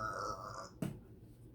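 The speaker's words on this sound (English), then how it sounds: "Jerry gave out a big burp." A single low, brief burp comes near the end, a close and fairly faint belch following a steady tonal background.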